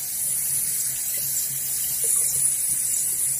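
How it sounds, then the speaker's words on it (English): Cold water running steadily from a bathroom sink tap during a wet shave, a continuous close hiss with no talk over it. "Let's get some cold water."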